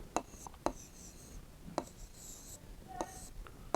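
Urdu words being written out by hand, with soft pen or pencil strokes on paper and a few sharper taps, close and quiet over a faint background hiss.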